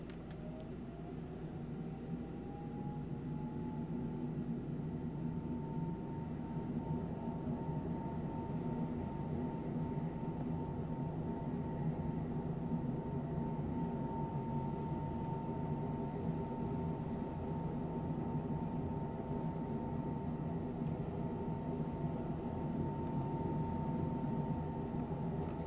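Boeing 747 engines roar steadily on the runway in MSFS 2024, a loud, continuous low drone with a rising whine that holds unbroken throughout.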